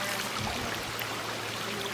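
Stream water at Eaton Canyon flows over rocks, making a steady, fairly loud rushing and trickling wash that holds constant throughout, with no talking.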